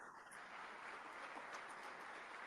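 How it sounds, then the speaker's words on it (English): Applause from a conference floor, faint and distant, a steady diffuse patter of many hands without a break. "They're applauding right now at the floor."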